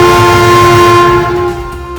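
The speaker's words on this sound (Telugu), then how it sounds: "అప్పుడు దూరంలో రైలు వచ్చే శబ్దం వినపడింది." An approaching train in an animated children's story sounds a loud, sustained horn over a rumbling rail bed, holding steady before easing off slightly at the end.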